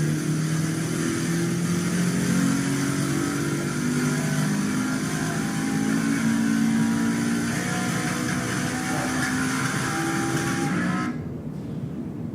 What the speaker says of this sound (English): pay close attention to the sound of the engine as it runs through the pool